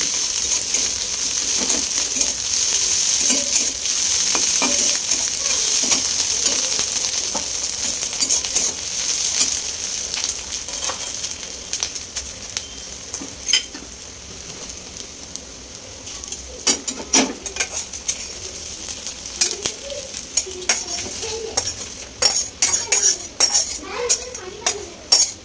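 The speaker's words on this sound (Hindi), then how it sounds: "जस्ट इसको थोड़ा सा और मैं फ्राई करूँगी।" Egg bhaja sizzling in a pan, a steady bright frying hiss throughout with occasional clinks and scrapes of a utensil stirring, fairly close.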